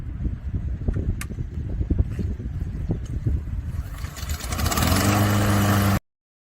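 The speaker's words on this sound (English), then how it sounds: "Let's see if that Honda lawnmower starts on the first go round." A Honda lawnmower engine is pulled over and catches near the end, settling into a loud, steady running drone after several seconds of low rumbling handling noise outdoors on long grass.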